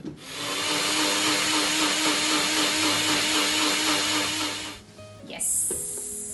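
Electric blender whirring at high speed as a drink blends with ice, a loud steady grinding roar that cuts off abruptly, followed by brief clinks and rustling afterward.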